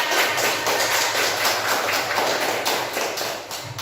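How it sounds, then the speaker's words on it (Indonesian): A classroom audience applauds a student group after its presentation, giving a dense, steady burst of many hands clapping that lasts several seconds and fades slightly at the end. "Beri aplaus buat kelompok."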